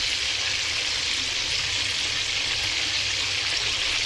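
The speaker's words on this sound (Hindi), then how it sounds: "साथ ही यहाँ पे मैं कर रही हूँ चिकन फ्राई फहद के लिए।" Chicken fries in a pan in a home kitchen, a steady, dense hiss of sizzling oil that runs unbroken and fairly loud, with no talk.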